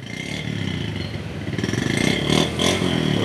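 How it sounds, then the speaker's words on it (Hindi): A small used motorcycle engine running after starting on the first kick, a close, steady, putting idle with a rapid even beat that picks up slightly in revs toward the end. "बाइक हुई है पहली किक पे स्टार्ट आराम के साथ"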